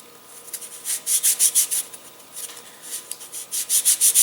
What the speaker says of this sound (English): So, we'll just sand this down free-handed.